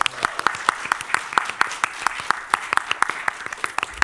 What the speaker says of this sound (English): So if everyone would give that guy a round of applause